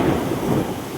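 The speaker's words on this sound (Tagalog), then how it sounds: "Rinig nyo? Lakas ng kulog." A low, heavy rumble of thunder rolls briefly and fades during a heavy rainstorm with strong wind in Marikina, Philippines, deep and fairly loud, with no talking.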